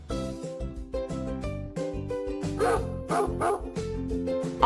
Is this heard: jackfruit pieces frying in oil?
no